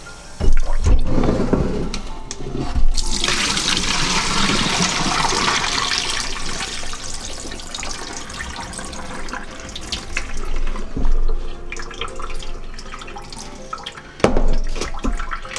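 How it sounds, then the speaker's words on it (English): Cold water runs steadily from a tap over beans in a sink, splashing and rushing for several seconds, with rattling and shifting of the beans beneath the flow. "You want to rinse your beans pretty good."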